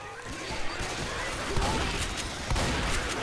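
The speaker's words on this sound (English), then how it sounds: "I'm firing like every round at him" Dense, rapid gunfire from Left 4 Dead 2, a continuous volley of loud shots filling the whole stretch with no pause.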